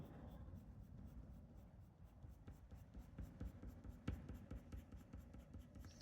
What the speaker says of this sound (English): Cross-hatching, shading like that, quite traditional shading, maybe a little bit of line work as well.